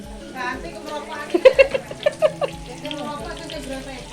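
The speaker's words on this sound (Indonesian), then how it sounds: "goreng tempe Mama" Tempe sizzles as it fries in a home kitchen in Java, a soft crackling bed of frying with a few sharper pops, mostly under people chatting nearby.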